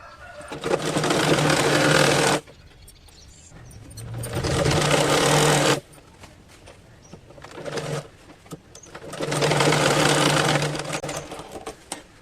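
A sewing machine stitches a shirt collar in three long, steady runs of whirring, a few seconds each, separated by brief pauses with soft handling clicks; loud and close, with no speech.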